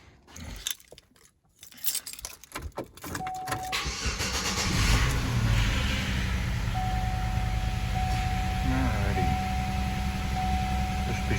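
A GM 3400 car engine with a dead battery cranks on a jump start after some clattering handling noises, catches and settles into a steady, loud idle with a faint high whine.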